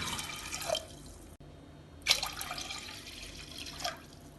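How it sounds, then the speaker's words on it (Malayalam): Water pours from a cup into a pressure cooker holding wheat in a home kitchen, coming as two short splashing bursts separated by a brief pause, quiet and close with no talking. "ഞാനിപ്പോ ഈ ഗോതമ്പ് അളന്ന അതേ കപ്പിന് 4 കപ്പ് വെള്ളം ഒഴിക്കുന്നുണ്ട്."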